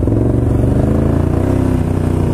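An off-road motorcycle fitted with loud aftermarket pipes revs up close, its engine a continuous rough, buzzing drone with fluttering pulses that holds steady for the whole stretch.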